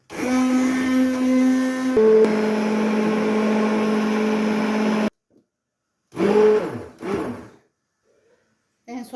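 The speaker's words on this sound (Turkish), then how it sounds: "Tavukları aldıktan sonra blenderla geçelim sebzelerimizi." A kitchen blender purees boiled vegetables for a chicken soup, giving a loud steady whir for about five seconds. After a pause, shorter bursts follow close up.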